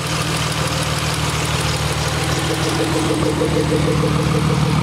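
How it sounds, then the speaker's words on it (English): A DeLorean's twin-turbo six-cylinder engine idles with a steady low rumble, overlaid by a fast, even ticking from the fuel injectors. "that tick tick tick tick tick tick tick tick, that's it firing every period"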